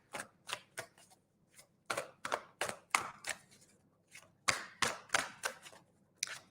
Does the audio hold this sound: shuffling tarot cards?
yes